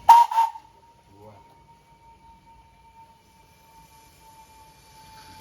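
A 7 1/4 gauge live steam locomotive at the Hollycombe steam collection gives a short, loud double whistle blast, then a thin tone lingers faintly. Soft clanks follow and a voice briefly comments.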